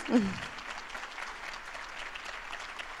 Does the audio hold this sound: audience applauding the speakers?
yes